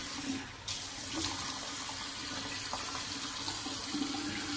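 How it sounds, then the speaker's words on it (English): Tap water runs steadily into a bathroom sink while a face is wet ahead of a wet shave, a continuous close splashing hiss with small shifts in flow and no voices. "Let's wet the face and apply the loose soap from the puck to my face."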